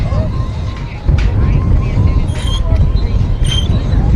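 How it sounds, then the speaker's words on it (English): Steady low rumbling buffet of wind hitting the microphone, constant and loud throughout, with faint distant tones above. "It's super windy here."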